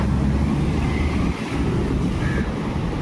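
Sea waves at Bandra beach in Mumbai roll in with a continuous heavy roar while wind buffets the microphone, loud and close, with a brief dip midway.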